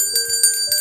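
A bright notification bell chimes three times in quick succession, loud and clear with lingering metallic tones, alone without any voice.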